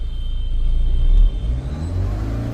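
BMW car engine revving as the accelerator is pressed during diagnostic coding, a steady close rumble that swells to a peak then settles back toward idle, with no talk.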